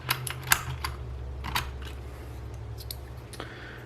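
Cherry MX Blue switches on a Cooler Master MasterKeys S TKL mechanical keyboard with thick PBT keycaps, a handful of sharp clicky key presses, close, irregular and sparse, over a low steady hum.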